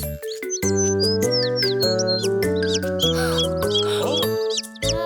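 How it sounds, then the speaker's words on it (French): Cartoon little bird chirps and tweets in quick repeated calls, bright and close, over a steady bouncy children's song backing. "Cui, cui, il appela toute sa famille."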